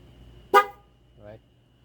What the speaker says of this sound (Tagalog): Stock horn. Ayan. Loud horn.